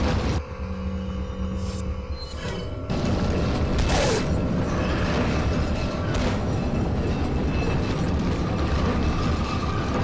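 In Resident Evil 4, a minecart rumbles and clatters steadily through the mines, a continuous loud mechanical roar with creaks and metallic rattles that swells slightly after a few seconds.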